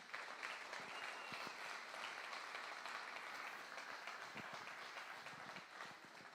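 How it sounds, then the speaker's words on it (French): Faint, steady applause from a church congregation, a dense wash of many hands clapping at a distance, sustained without a break. "Est-ce qu'on peut l'encourager,"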